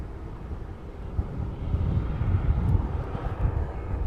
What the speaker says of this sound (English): Sounds like a 152 maybe on the way in as well.